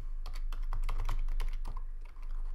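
Typing on a computer keyboard: a brisk run of rapid, close key clicks in an irregular rhythm for about two seconds, with no voice.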